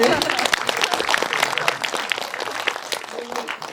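Audience at a film screening talk claps for actor Ahn Sung-ki, a sustained wash of applause from a seated crowd with some voices mixed in.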